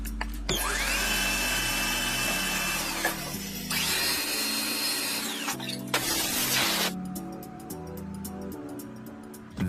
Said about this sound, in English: That chunk of wood had absolutely no say in what it was about to become. The lathe decided.